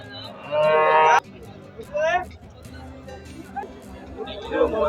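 A crossbred dairy cow at a weekly cattle market gives one loud, drawn-out moo, followed by a rising call, with voices and market chatter in the background.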